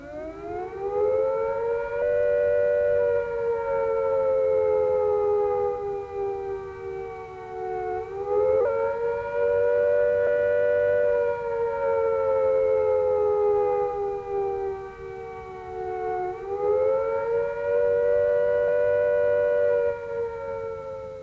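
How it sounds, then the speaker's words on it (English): British Cold War civil defence siren sounds the nuclear attack warning, a loud continuous wailing tone that rises and falls in slow repeating cycles for over twenty seconds with nothing else heard. "If attack is imminent, you will hear the attack sound like this."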